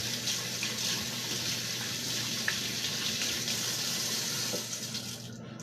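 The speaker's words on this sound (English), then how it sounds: "Let me wash my hands" Hands washed under a kitchen tap while baking chocolate chip cookies: a steady, close rush of running water that splashes continuously and tapers slightly at the very end.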